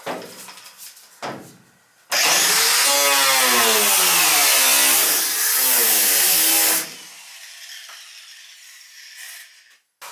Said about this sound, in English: Easier just to cut it with the grinder, but Let's try the nibbler.